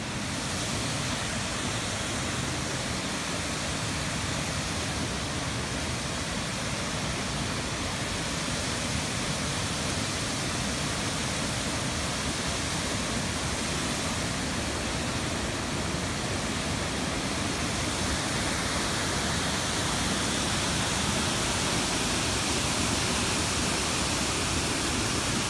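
Water rushes over the dam at Rainbow Falls in a loud, steady, unbroken roar that holds its level the whole time, with no voices.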